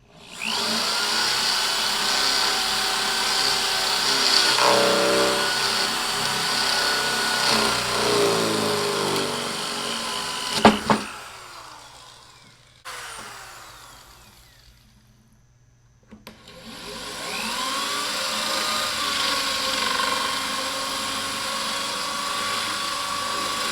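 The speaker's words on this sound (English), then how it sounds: "So I got a 1/2 inch Forster bit that I'm going to drill holes in each corner." A loud, steady whirring power drill with a 1/2 inch Forstner bit bores into wood for several seconds, pauses with a brief clunk, then spins up again, close and sustained.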